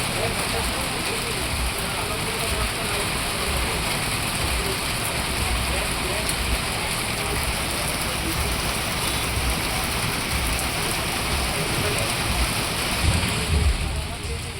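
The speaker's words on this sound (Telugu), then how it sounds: "మధ్యాహ్నం నుంచి భారీ వర్షం పడుతోంది." Heavy rain falls in Araku, Alluri district, as a dense, steady roar that stays constant and loud throughout, with a slight swell near the end.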